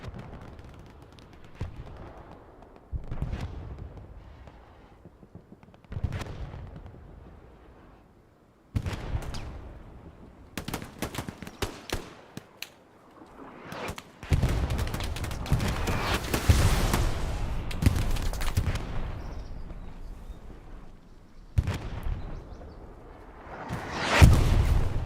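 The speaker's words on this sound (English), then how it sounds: "Nice artillery from the Allies." Allied artillery shells in Hell Let Loose on Utah Beach land as heavy, spaced booms and rumbling blasts, some distant and others close and loud, building into a dense barrage midway with no one talking.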